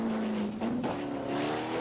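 Porsche 944 race car engine howling on a circuit during a 1986 Canadian Rothmans series race, a steady loud drone that dips briefly then swells again as the car rejoins the track.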